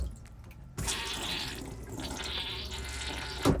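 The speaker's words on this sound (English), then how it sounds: "We're going to flush, and we're going to make sure that the bowl fills as it should." A Dometic RV toilet fitted with a newly replaced valve flushes with a sudden rush of water. Steady filling flow follows as the bowl refills, ending in a brief louder splash.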